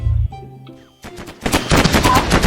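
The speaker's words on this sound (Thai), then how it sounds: "เราต้องแปลงร่างเป็นยานตามไปยิง" Spaceship gunfire in the video game Mini World Block Art: a quieter lead-in gives way to loud, rapid machine-gun bursts that continue without pause.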